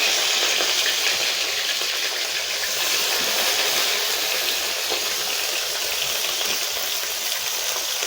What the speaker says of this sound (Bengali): এখন তেলটা গরম হয়ে গেছে, দিয়ে দেবো মাছটা।